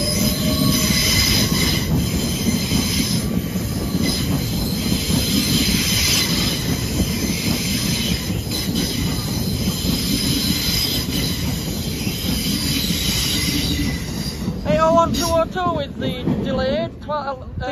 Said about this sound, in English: At long last, the delayed 1557 LNER Azuma service from Edinburgh to London King's Cross.